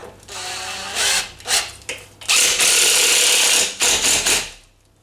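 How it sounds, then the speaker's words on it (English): A power drill drives screws through bath feet into the floor during a bath installation, whirring in several short bursts followed by one long sustained run, close and loud with brief pauses between. "I'm also going to screw my feet down like that."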